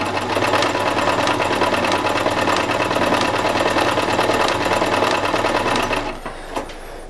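A Privileg Ideal 750 sewing machine running a blind stitch: a steady, fast, even mechanical whir that stays loud and constant for about six seconds, then stops, leaving a few faint clicks.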